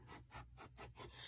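Watercolor paint being scraped off paper during a beginner sunset painting, a series of about five rhythmic, soft rasping strokes close by with brief gaps between them, quiet and without talk.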